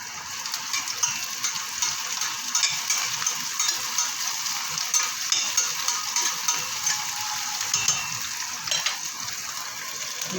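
Onions fry in a hot pan for githeri, a steady crackling sizzle with small stirring clicks, close and continuous.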